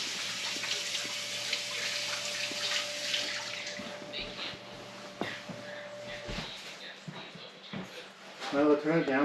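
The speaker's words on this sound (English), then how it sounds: "now go wash our hands real quick" Tap water runs steadily into a sink as hands are washed, a broadband hiss in a kitchen where a brisket is being prepared, with a voice speaking over it and clatter near the end.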